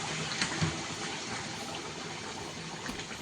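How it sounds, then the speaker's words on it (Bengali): Hot water pours steadily into a vegetable curry cooking in a pan, a close, continuous gushing splash with no talk. "তারপরে গরম জল ছিল সেই গরম জলটা দিয়ে দেবো"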